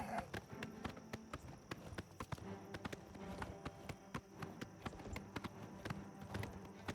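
Horse hooves gallop in the video game Oblivion Remaster, a quick steady clip-clop rhythm of many hoofbeats, faint and continuous over a low background hum.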